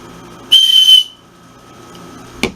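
A single sharp, piercing blast from the small whistle on a Cobra survival bracelet, loud and close for about half a second, followed by quiet and a brief click.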